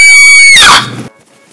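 A cartoon girl gives a single loud, high-pitched scream of delight that slides downward and cuts off abruptly, close and alone.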